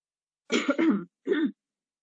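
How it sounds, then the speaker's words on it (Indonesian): Two quick, raspy coughs up close, the first longer and slightly broken, the second short, with no talking around them. "Saya dari tadi kok batuk."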